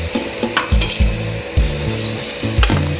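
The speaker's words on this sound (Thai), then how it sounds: "เราก็จะทำการเทกุ้งไปเลยครับ" Blanched river shrimp tumble into a bowl in a few soft, wet clattering bursts, with light clinks of utensils against dishware close by.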